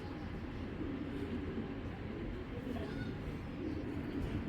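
A loft of racing pigeons produces a dense, steady murmur of low cooing that continues without pause throughout, with no distinct single call standing out.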